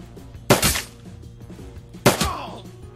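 Pistol gunfire in Shadowrun Dragonfall: two loud, sharp shots roughly a second and a half apart, each with a short decaying tail over a quiet background.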